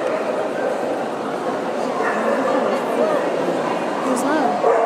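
At a dog show, a female dog that recently had puppies gives yipping barks and high whimpers, close and fairly loud, mixed under ongoing conversation between people.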